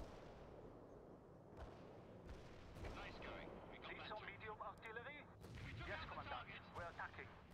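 Artillery shells and white phosphorus strikes in the video game World in Conflict, heavy booming blasts landing one after another with rumbling tails, while voices talk over the later impacts.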